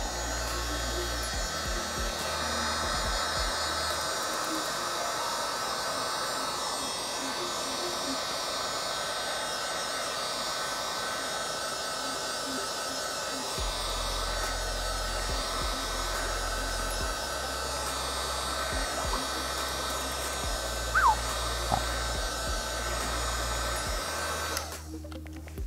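A heater or heat gun warming a Ferrari panel during paintless dent repair blows a constant loud roaring hiss that stays steady, with brief bumps and a low hum that cuts in and out.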